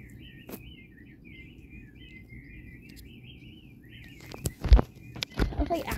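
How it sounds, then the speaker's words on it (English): Thin, warbling video game bird chirps trill on and off at a steady faint level over low background rumble, followed near the end by a few louder thumps and clatters. "Sounds like actual birds."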